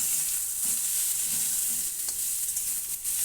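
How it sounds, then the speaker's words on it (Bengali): Mixed vegetables fry in a pan with salt and turmeric for a pumpkin-greens curry, producing a loud, steady, close sizzle with faint stirring scrapes throughout. "আগে একটুখানি ভেজে নেব খুব বেশি না দুই থেকে তিন মিনিট ভেজে নেব"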